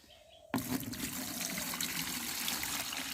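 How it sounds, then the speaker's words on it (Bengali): Rice being washed in water in a village kitchen before cooking, a steady close trickling and sloshing of water that starts abruptly after a brief quiet moment and continues without pause. "চাল ধোয়া হচ্ছে দেখেন"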